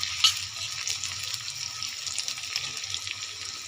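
Green chili and onion frying in hot oil, a steady close sizzle with bright crackling spatters throughout, no voices.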